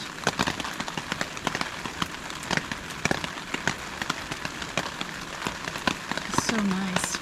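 Steady rain patters densely on a surface at a camp, with sharp drops crackling throughout and the downpour swelling slightly louder near the end.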